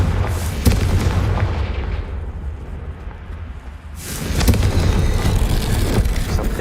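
A Confringo spell explosion in Hogwarts Legacy bursts as a loud, booming blast that rumbles and fades over a few seconds before a second heavy rush of noise swells up.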